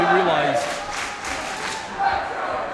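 A professional wrestling crowd at a Defiant event shouts and cheers in surges, with a commentator's voice briefly heard at the start before the crowd noise swells and dips.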